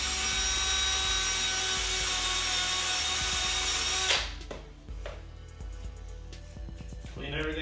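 A power driver whirs loudly and continuously while working on a car suspension bushing during a GTO subframe and control arm bushing upgrade, then stops abruptly, leaving clanks and shop noise.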